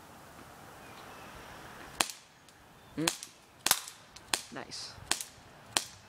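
Sharp, snappy shots from a Beretta M84 Cheetah BB pistol fire in an irregular string of about seven cracks over a quiet outdoor backdrop, with a brief spoken remark among them.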